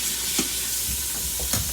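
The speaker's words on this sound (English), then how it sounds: "You hear that sizzle?" Seasoned pork chops sizzle in a hot Instant Pot, a continuous close hiss of frying with a few soft bumps and clatters as the meat is placed and moved.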